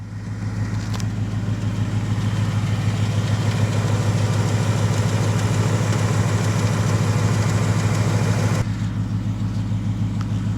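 A 2018 Ford Mustang GT V8 with an aftermarket exhaust idling after a start, a low steady engine rumble with fine rapid ticking throughout, close and loud, ending in a sudden drop near the close.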